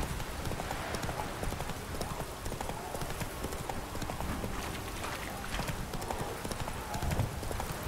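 Horse hooves clip-clop steadily in The Witcher 3, an even, close trotting rhythm over soft game ambience.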